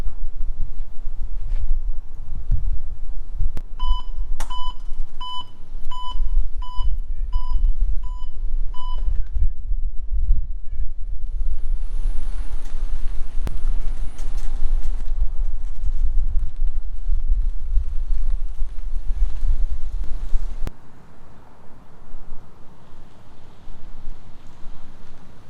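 A golf cart is taken for a short drive, with a low, steady motor rumble and wind buffeting the microphone, a run of repeated electronic beeps early on, and quieter rumbling as it settles.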